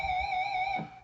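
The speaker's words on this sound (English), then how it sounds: "palm mute or pinch harmonic vibrato." A single electric guitar note rings out with a pinch harmonic, showing steady bright overtones and slight vibrato, before a short palm-muted thump near the end as the sound fades. No one speaks.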